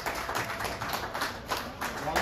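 Guests clap for the groom at a civil wedding ceremony, a short burst of scattered hand clapping mixed with a murmuring crowd and voices.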